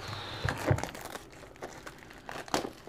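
Plastic packaging from an online shopping haul being torn open, with a few sharp crinkling and crunching bursts between quieter rustles, close and moderately loud, no talking.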